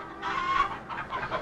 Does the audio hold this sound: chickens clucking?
yes